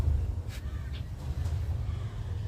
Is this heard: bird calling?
yes